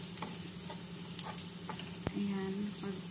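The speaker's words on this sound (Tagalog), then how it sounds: "Ito, nag-fry ng onion, ginger garlic paste." Onion and ginger garlic paste frying in a pan for shrimp curry, a faint steady sizzle with occasional stirring clicks and a sharp tap, quiet and close.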